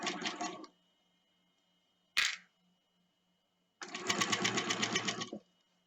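A sewing machine runs fast while stitching a double rolled hem on a circle skirt, giving a short burst, a brief clack, then a longer steady whirring run, close and clear in a quiet room.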